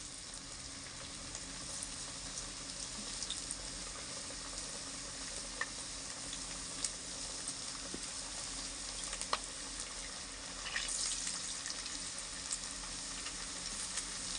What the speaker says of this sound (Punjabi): ਲਓ ਜੀ ਤੇਲ ਆਪਣਾ ਹੋ ਗਿਆ ਗਰਮ ਹੁਣ ਆਪਾਂ ਜਿਹੜੇ ਸਨੈਕਸ ਬਣਾਏ ਨੇ ਇਹਨਾਂ ਨੂੰ ਵਿੱਚ ਪਾ ਦਿੰਨੇ ਆ ਤੇਲ ਦੇ